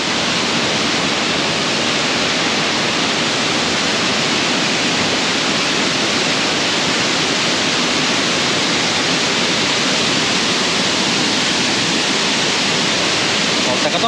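Mae Sa waterfall in Chiang Mai roars as a constant, loud, broad rush of falling water, heard from close by with no pauses throughout.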